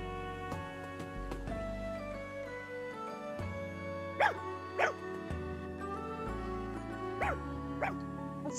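A dog in Fire Emblem Engage gives a few short yips and barks, spaced a couple of seconds apart, over steady in-game background music.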